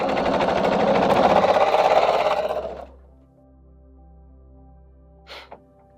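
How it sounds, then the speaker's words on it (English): A sewing machine runs steadily for nearly three seconds as it stitches patchwork quilt pieces end to end, then stops, leaving a low hum and a brief faint clatter near the end. "Now let's just sew those together in any order, just as long as they are end to end."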